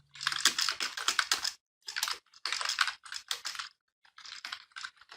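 Typing on a computer keyboard while entering text into a spreadsheet cell, bursts of crisp close keystrokes separated by short pauses, with no speech.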